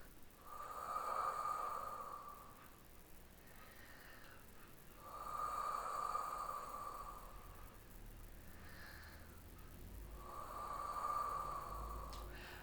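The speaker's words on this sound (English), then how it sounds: "All right, so nice deep breaths." Slow, deep breaths during a Pilates ring hamstring stretch come close and clear, three long airy inhale-exhale cycles with a steady rhythm and no talk over them.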